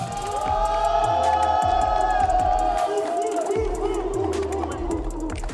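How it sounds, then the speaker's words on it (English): Crowd reacts to MMA fighter Hamzat Aybayev of Brussels at a PFL weigh-in in Brussels, a loud, steady roar of many voices with whoops and shouts, continuous throughout and mixed with a rhythmic low thumping of arena music. "You can hear the crowd's response to the man they call Wolf, Hamzat Aybayev"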